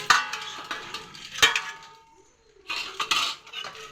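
Dishes and cutlery clatter while being taken out of an LG 14-place dishwasher, in two short bursts of close, bright clinks with a quiet pause between them.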